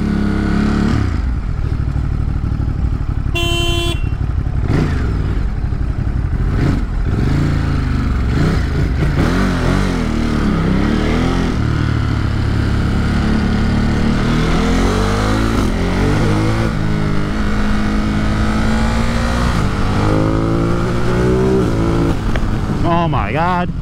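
A motorcycle revs hard and accelerates continuously at close range, its engine note rising and falling with gear changes over loud wind rush, while a rider exclaims over it.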